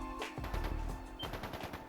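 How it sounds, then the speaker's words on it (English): Rapid bursts of automatic gunfire from a battle scene in the video game Trails of Cold Steel III, sounding somewhat distant, with dense overlapping shots and sharp cracks that continue throughout. "That sound. Gunfire from deeper in."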